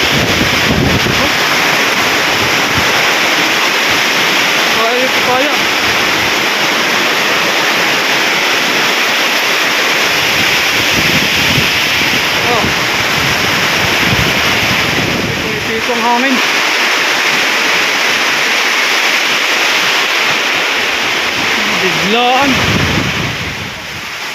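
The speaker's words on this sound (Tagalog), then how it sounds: "Lakas ng hangin, no?" Strong wind roars steadily into the microphone with a rushing, surf-like wash of rain, loud and continuous, with brief voices faintly heard beneath it.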